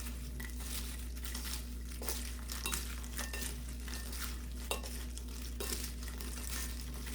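Pollock skin being rubbed and tossed with a spoonful of chili powder by hand, giving soft, close, irregular rustles and light clicks against a bowl over a steady low hum.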